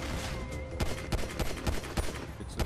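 Rapid gunfire in the video game GTA Online: a dense, uneven string of sharp shots over a constant hum of in-game background noise.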